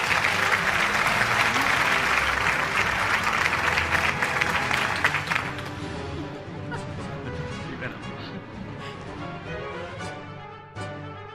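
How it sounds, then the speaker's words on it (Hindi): Loud, dense applause from an award-show audience fills the first five seconds, then thins into scattered claps and crowd murmur as it fades out. "भरपूर तालियां"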